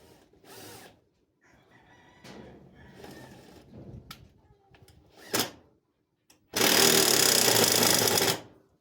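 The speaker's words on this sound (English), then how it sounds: "I should have charged my drill because it looks like it's getting ready to die on me" A cordless drill with a low battery drives screws, whirring in a few short bursts, then running in one loud, sustained grinding burst near the end, with rooster-like crowing earlier on a farm.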